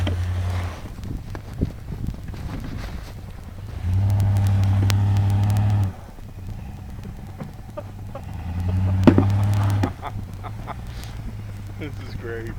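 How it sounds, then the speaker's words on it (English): A 4-wheel drive truck stuck in deep snow during a 2010 blizzard revs in bursts as its wheels spin and slip, the engine surging loudly for a few seconds at a time, with people talking and wind noise throughout. "That's the sound of 4-wheel drive slipping."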